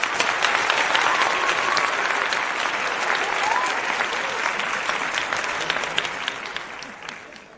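Audience applause at a panel show, a dense, loud burst of clapping that holds steady and slowly tapers off toward the end.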